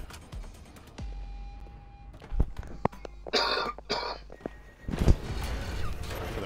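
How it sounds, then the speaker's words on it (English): A person coughs and clears their throat a few times while playing Watch Dogs: Legion on an Xbox Series X, short harsh bursts over a faint background of game sound. "Sorry for the coughing."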